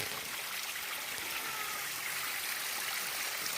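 Water rushes and pours steadily into a filling dam in a continuous, even flow, a dense hiss that holds at the same level throughout with no voices.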